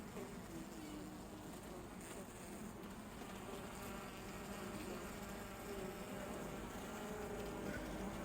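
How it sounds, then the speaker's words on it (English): A faint, steady buzzing of many honeybees around an open hive hums continuously in the background, even and unbroken throughout. "Okay, these bees are moving fast. Something's up."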